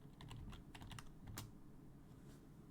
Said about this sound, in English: we're going to type in Docker, and then we're going to type in run